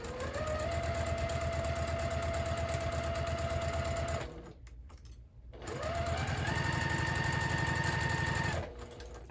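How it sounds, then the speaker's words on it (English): A sewing machine stitches a pillow seam at a half-inch allowance, running in two long steady bursts of rapid mechanical whirring with a brief pause between them, close and clear with no talk. "start sewing at a 1/2 inch seam allowance"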